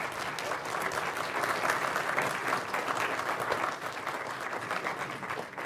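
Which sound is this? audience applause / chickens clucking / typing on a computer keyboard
audience applause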